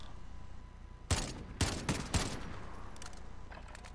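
A warning gunshot in a shooter video game: after a quiet lull, a quick burst of three or four sharp shots rings out close and loud, followed by faint scattered echoes.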